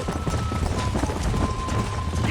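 Horses galloping in the Western game Red Dead Redemption, a steady rapid clip-clop of hooves running continuously and fairly loud under game ambience.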